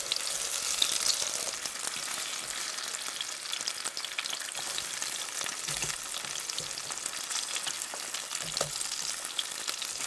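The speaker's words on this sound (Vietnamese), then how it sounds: "mình cho vào chảo 3 muỗng canh dầu và mình cho hành tây vào áp chảo cho thơm" Sliced onion fries in oil in a pan with a steady, close sizzle and crackle that runs unbroken throughout, with no voices over it.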